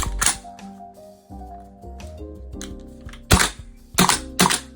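A VFC HK416C custom airsoft rifle with a PT5 upgrade whirs mechanically, then fires several sharp, close bursts in quick succession near the end.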